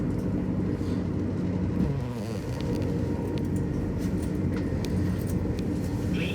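A moving passenger train on a British rail line, a steady low rumble of wheels and carriage running continuously, with faint rattles and clinks inside the carriage.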